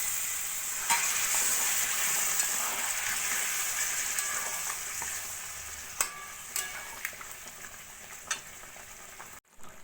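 Potatoes for a vegetarian aloor dum, a Bengali potato curry, cooking in a pan after water has been added, with a steady soft sizzle and bubbling plus occasional spoon clinks against the pan, close and alone.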